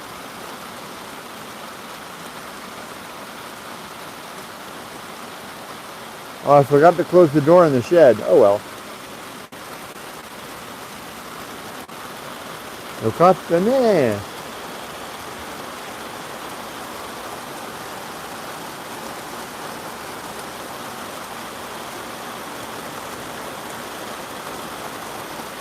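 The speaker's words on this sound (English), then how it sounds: "Love early morning heavy rain." Heavy early-morning rain falls steadily with an even, continuous hiss for the whole stretch, while a person speaks briefly twice over it.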